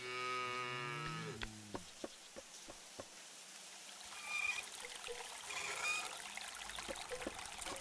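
A cow in the video game A Juggler's Tale gives a drawn-out moo at the start, followed by tapping, clicking game sounds and a steady trickle of running water in the background.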